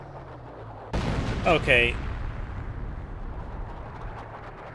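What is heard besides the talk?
artillery barrage in video game Company of Heroes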